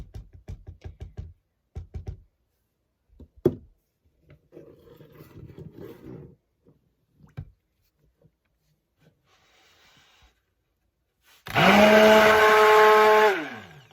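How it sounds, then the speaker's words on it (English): After quiet bumps and clatter, a stick blender mixing bear fat soap whirs loudly and steadily for a couple of seconds near the end. "I really like my stick blender, so I'll be using that."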